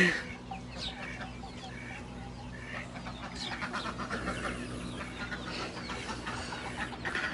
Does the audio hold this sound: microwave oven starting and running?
no